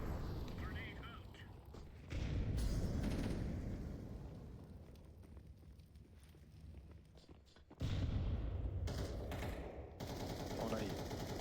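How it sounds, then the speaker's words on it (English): A grenade blast and bursts of gunfire in Counter-Strike 2 during a competitive match, with two sudden loud booms and scattered shots over steady game ambience, fairly quiet overall, with occasional voices. "Throwing a grenade."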